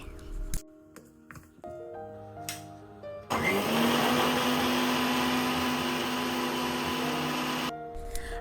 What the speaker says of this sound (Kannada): ಸ್ವಲ್ಪ ನೀರನ್ನು ಸೇರಿಸಿ ಗ್ರೈಂಡ್ ಮಾಡ್ಕೊಳ್ತೀನಿ